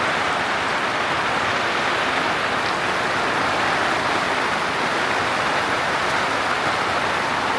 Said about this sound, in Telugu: మొత్తం పడుతుంది ఘోరంగా వాన.